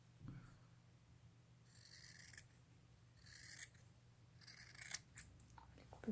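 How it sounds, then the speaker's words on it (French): Scissors snip through a homemade fabric mask in a few quiet, separate cuts, each a brief crisp rasp over a low steady hum, with no talking. "On va couper ça."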